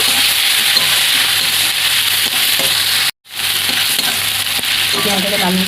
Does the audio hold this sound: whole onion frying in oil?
yes